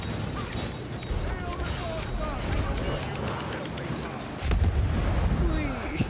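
Explosions and booming blasts from combat in the vampire survival game V Rising, a dense rumbling barrage that swells louder near the end, with a voice speaking over it.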